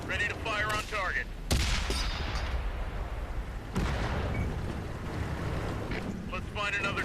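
Tank cannon shots in the Xbox One World of Tanks game, with the Object 140 tank: two sharp broadband booms at about 1.5 and 3.8 seconds, each followed by rumbling decay over continuous engine and wind-like noise, with brief voice-like bursts.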